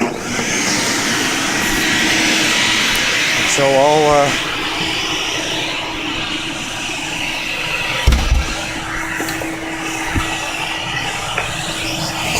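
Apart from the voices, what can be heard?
30-plus-year-old vacuum cleaner running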